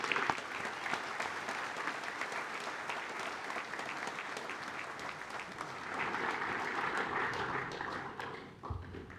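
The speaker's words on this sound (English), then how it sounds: "Let's give them a round of applause, please" A school prize-giving crowd claps for prize winners in a steady, dense wash of applause that holds for several seconds, swells slightly near the end, then tapers off.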